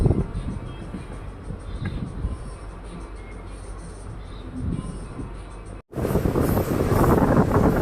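A passenger train rumbles and clatters steadily as it pulls away from Shravanabelagola railway station in Karnataka, heard from on board with wind rushing past, louder after a brief cut.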